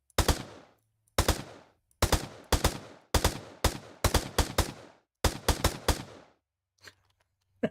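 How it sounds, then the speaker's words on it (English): Gunshots fired in Minecraft at leaves, coming as loud rapid bursts of three to five sharp cracks separated by short silences, repeating about seven times. "Can I shoot it with a gun?"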